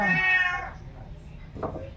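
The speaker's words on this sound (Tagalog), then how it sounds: "Sorry, ang ingay ni Meow Meow." A cat meows loudly and close by, a long drawn-out cry, followed by a shorter, fainter meow a moment later.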